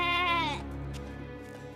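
A hungry goat gives a single loud, wavering bleat close by, its tone quavering before it drops into a lower, fading tail.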